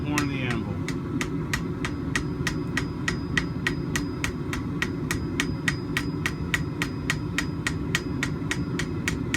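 Light, evenly spaced hammer peen blows ring sharply on the horn of an anvil while a forge-welded scarf is planished and blended, a steady metallic tapping that repeats many times over a constant background hum.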